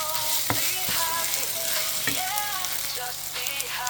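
Mixed vegetables sauté in hot oil in a pan with a steady, close sizzle, and a utensil knocks against the pan a few times.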